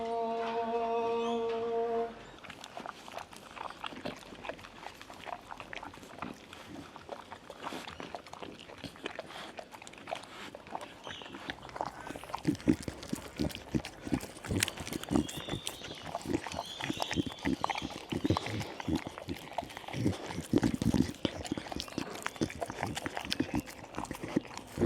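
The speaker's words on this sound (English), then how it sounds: "get ready for some dog eating ASMR" A dog eats food, producing irregular wet chewing, crunching and licking sounds up close, busy and continuous after a brief tonal sound at the start.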